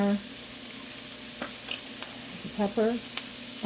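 Seasoned vegetables fry in a pan, a soft steady sizzle running under brief bursts of a nearby voice.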